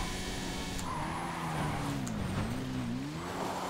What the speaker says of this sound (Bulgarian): Мотор! И то с буст!